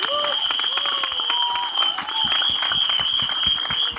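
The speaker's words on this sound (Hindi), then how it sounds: "एक बार जोरदार तालियां हो जाएं फॉर द डायरेक्टर डुओ" A crowd applauds the director duo at a film teaser launch event, with steady sustained clapping mixed with a bright whistle-like tone and faint voices underneath.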